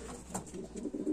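A racing pigeon coos softly and briefly, close by, over a dense low background rumble.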